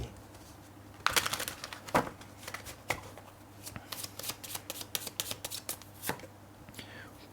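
Tarot cards shuffle in quick, crisp riffles and flicks, close and fairly quiet, with short bursts of papery snapping over a faint background hum.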